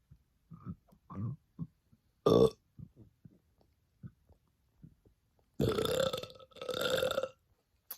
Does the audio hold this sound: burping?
yes